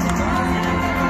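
Crowd noise with cheering and whoops at a Nahdlatul Ulama religious gathering (pengajian) in Changhua, Taiwan, a steady dense din with no clear break for about a second.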